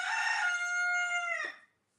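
Rooster crowing once, a loud close cock-a-doodle-doo held for about a second and a half before cutting off into silence.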